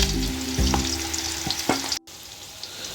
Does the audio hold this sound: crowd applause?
no